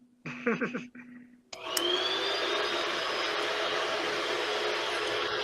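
A vacuum cleaner switches on after a short burst of indoor chatter and settles into a loud, steady whine and roar that continues unbroken to the end.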